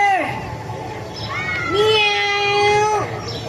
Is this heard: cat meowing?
yes